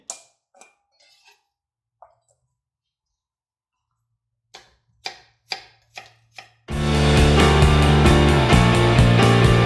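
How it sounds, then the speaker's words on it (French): A kitchen knife chops apples into a fine brunoise on a board, a few faint taps and then a quick run of sharp, close cuts, ending as loud music takes over. "Et je les recoupe en fait en deux pour faire une brunoise."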